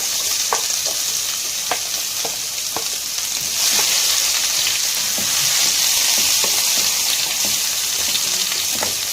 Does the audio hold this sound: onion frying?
yes